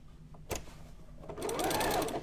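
A sewing machine zigzag-stitches a topstitch over elastic: a sharp single clack, a short pause, then a rapid, steady run of stitching that builds and continues to the end, close and fairly quiet.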